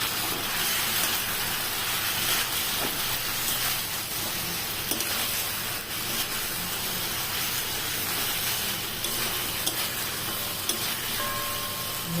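Steady, close sizzling of fried chicken pieces in a hot pan, a continuous crackling hiss with faint occasional clinks. No voices.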